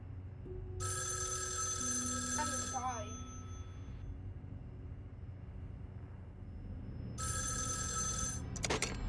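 An old telephone ringing in a horror video game: two bursts of shrill, rapid electronic bell trills separated by a stretch of low rumbling ambience, with a faint voice-like warble in between.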